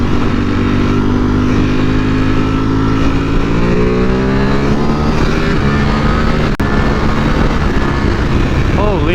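A stock V4R motorcycle with dual exhaust rides through traffic, its engine droning loud and steady with rising and falling revs throughout, plus a brief sharp click near the end.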